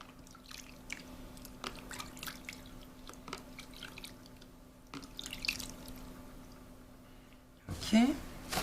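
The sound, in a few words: rinsing off oil and cream in the shower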